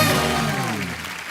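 Studio audience on a TV comedy talk show applauding as two film-star guests walk on, a dense, loud burst of clapping that starts strong and eases slightly toward the end, with music-like tones mixed underneath.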